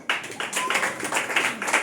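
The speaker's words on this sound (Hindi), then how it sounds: "ताली बजाओ" A congregation claps during a Hindi-language church service: a dense, steady patter of many hands, close and fairly loud, with no talk over it.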